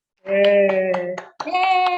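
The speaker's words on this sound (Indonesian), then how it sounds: "Tepuk tangan untuk kelompok 1 ya" A classroom of students clapping for a presenting group in a steady rhythm, sharp claps falling evenly beneath sustained young voices calling out together, with a brief pause midway before the chant and clapping resume.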